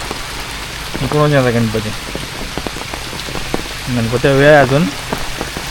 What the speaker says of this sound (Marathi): पावसाला जोर आहे आता